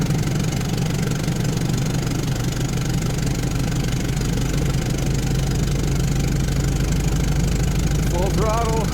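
A car engine running at full throttle while climbing a hill through Paris streets, a steady continuous drone with a low rumble under traffic ambience, a brief voice near the end.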